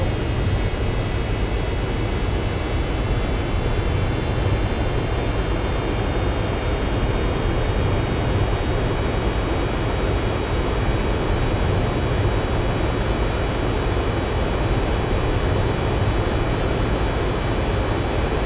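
A car engine roars at full throttle in the Gran Turismo 4 racing game, a dense and steady drone held at one loud level for the whole stretch, with no talk over it.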